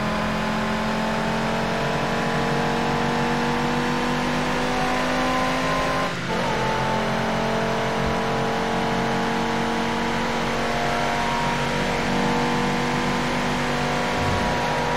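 A damaged-engine race car in TOCA Race Driver 3 roars steadily at high revs for the whole stretch, a dense continuous engine drone with shifting tones and no break, loud and up front.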